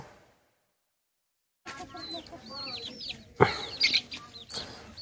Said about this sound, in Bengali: এখানে কিছু মুরগির বাচ্চা আছে, দেশি মুরগি আছে এবং কিছু সোনালী মুরগি আছে